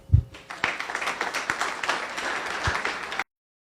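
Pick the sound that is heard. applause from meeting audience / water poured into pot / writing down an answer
applause from meeting audience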